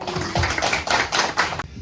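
Applause welcoming a speaker at a health lecture, a short burst of several hands clapping in loose rhythmic pulses, fairly close, then stopping abruptly.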